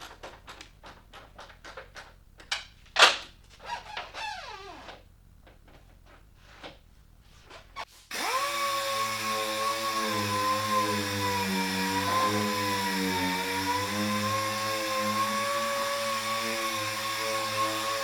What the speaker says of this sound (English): I'm going to put the bolt in, get it secure